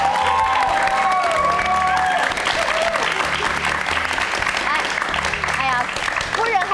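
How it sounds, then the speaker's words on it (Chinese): A television talk show studio audience applauds loudly to welcome a guest seated in the crowd. Dense clapping mixed with cheering continues for several seconds, with bright tonal sounds rising and falling over it. "我们掌声欢迎她一下，好不好？"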